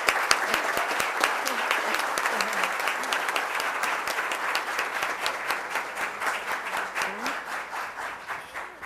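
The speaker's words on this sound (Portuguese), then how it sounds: "Nós vamos saudá-la com palmas" A crowd at a public finance hearing in a legislative chamber applauds steadily for several seconds, dense clapping that tapers slightly toward the end, with faint voices mixed underneath.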